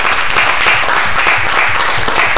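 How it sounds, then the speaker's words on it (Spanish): A church congregation applauds, a loud, sustained and even wash of many hands clapping together at close range, with no break. "Den un aplauso al Señor, amados hermanos."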